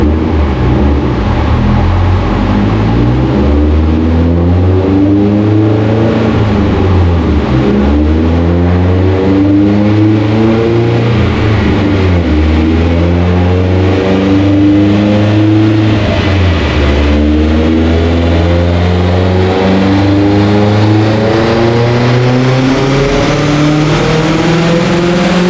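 A car engine fitted with a BCP X500+ turbocharger revs hard through a dyno pull at about 22 pounds of boost, a loud, continuous, rising engine roar that climbs repeatedly through the gears with no talk over it.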